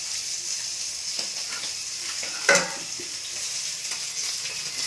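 Fish frying in a pan of hot oil, a steady close sizzle running throughout with a brief louder spatter burst midway, no voices.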